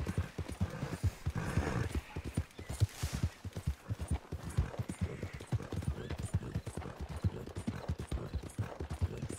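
Horse hooves clop in a steady walking rhythm in the video game Red Dead Redemption 2, with the repeated thuds continuing throughout and soft game ambience beneath.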